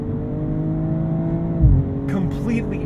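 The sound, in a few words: BMW M240i xDrive inline-six engine revving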